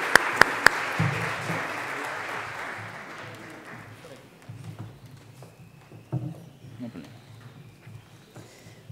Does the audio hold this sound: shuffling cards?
no